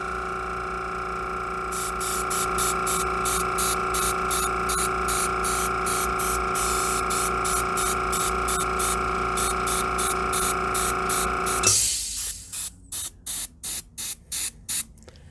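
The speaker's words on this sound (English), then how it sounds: "Forgive the compressor." A small airbrush compressor hums loudly and steadily with a continuous spray hiss while paint goes onto a mummy bust. Near the end it cuts out and leaves short, evenly spaced puffs of air.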